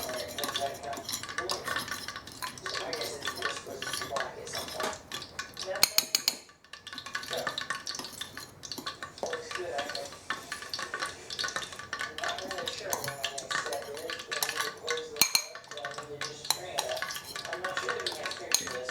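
A spoon scrapes and clinks against a bowl while spices are stirred into a seasoning mixture for imitation KFC coating, with busy irregular taps and scrapes continuing throughout, nearby and fairly loud, and a short lull midway.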